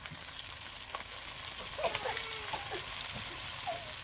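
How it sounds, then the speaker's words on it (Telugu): Fish coated in masala frying in hot oil, a steady crackling sizzle with scattered pops, close and moderately loud, with no one talking. "ఫ్రై అయితే చేస్తున్నాం"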